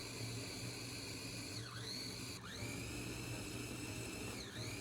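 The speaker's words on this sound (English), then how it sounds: "Blend the mixture until everything is well combined." A blender whirs steadily while blending a corn custard mixture, a faint high-pitched motor whine that dips and rises in pitch a few times as the load shifts.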